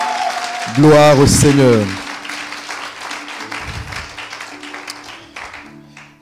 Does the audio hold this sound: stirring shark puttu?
no